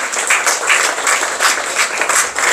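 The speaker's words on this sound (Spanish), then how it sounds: "Dele un fuerte aplauso al Espíritu Santo." Strong applause from a church congregation during a Spanish-language Sunday Mass, many hands clapping together in a loud, steady, continuous roar that carries through the whole moment.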